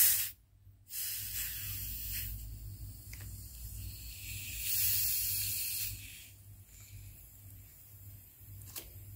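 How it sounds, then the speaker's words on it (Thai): Fizzy homemade passion fruit tepache releases a steady, close hiss of escaping gas as the bottle cap is eased open slowly, briefly dropping out near the start, then swelling and fading in waves. "เราค่อยๆเปิดให้แรงดันมันขึ้นมานะคะ"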